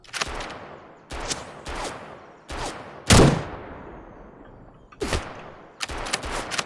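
Gunfire in the video game Road to Vostok: sharp, loud single shots and short bursts spaced irregularly, one especially heavy blast with a long decaying tail, each shot ringing out over a quiet background.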